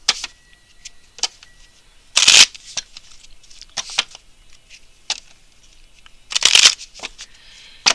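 Oracle Answers tarot cards being shuffled produce two brisk riffling bursts set apart by a few seconds, with soft, scattered card taps and flicks in between. The sound is close and clear, with no talking.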